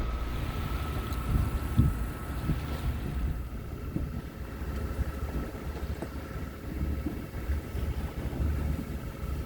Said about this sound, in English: Just motoring through the Atlantic.